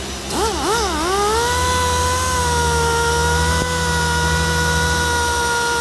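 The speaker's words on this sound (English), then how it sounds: "I'm gonna start polishing." A machine polisher compounding the paint on a Midnight Purple Nissan Skyline R34 GTR V-spec, spinning up with a wavering whine that settles into a loud, steady hum and carries on alone.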